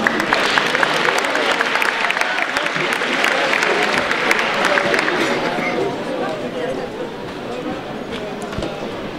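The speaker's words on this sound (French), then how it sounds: "Merci de vos applaudissements." An audience applauds at a cosplay show during a science-fiction convention, a dense sustained clapping that fades slightly toward the end, with some crowd chatter mixed in.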